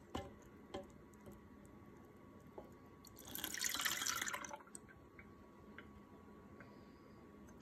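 A mixture of flour and water pours through a screen into a container, a soft swelling trickle of liquid in the middle of the stretch, surrounded by faint drips and small ticks.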